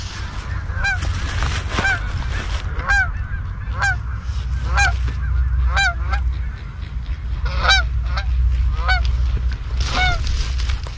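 A flock of geese flying in during a waterfowl hunt, honking repeatedly in loud, close, overlapping calls throughout, over a steady low rumble of wind or outdoor noise.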